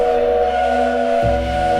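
A train whistle blows as a steady, loud, sustained tone that shifts slightly in pitch near the end, used as a sound effect in a horror story.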